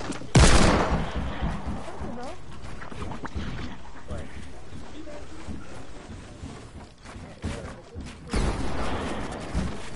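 Rapid gunfire from a multiplayer shooter video game, dense bursts and a loud volley at the start and again near the end, with game noise and talk underneath throughout.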